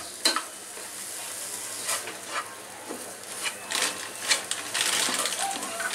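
Chhana being stirred with powdered milk in a pan over medium-low heat, soft sizzling with repeated scraping stir strokes and occasional clicks of the utensil, close and moderately quiet.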